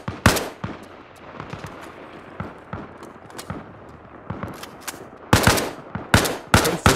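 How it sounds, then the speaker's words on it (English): Gunfire in the Arma Reforger video game: scattered single shots and short bursts through the middle, then loud clustered bursts near the end, with a steady background din between them. "There's no answer to suppressing fire."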